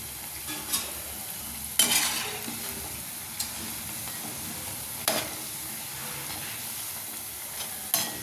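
Bondas deep-fry in hot oil, a constant soft bubbling hiss with a few sharper crackles and bursts scattered through it, heard up close without any voices.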